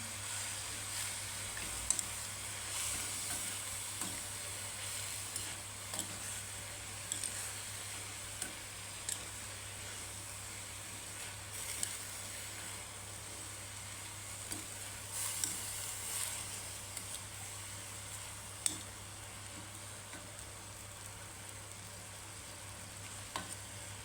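Cabbage stir-fry with turmeric and coriander, sizzling steadily in a pan, with occasional soft scrapes and clicks of stirring under a constant low hiss.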